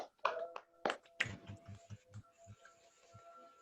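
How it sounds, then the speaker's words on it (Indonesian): In a school group counseling session, students clap their hands. A few scattered claps and a voice come first, then a run of rhythmic, evenly spaced claps that slows and thins out. "Tepuk tangan."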